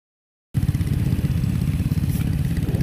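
A GY6 Honda Ruckus scooter ridden through the Smoky Mountains in Tennessee starts after half a second of silence, then gives a loud, close engine drone with rumbling wind buffeting that continues to the end.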